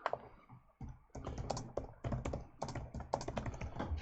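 Quick bursts of typing on a computer keyboard, irregular clusters of keystrokes close and fairly quiet, with no talking over them.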